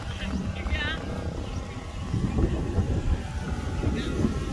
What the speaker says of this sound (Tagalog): Kusog jud kay hangin dire.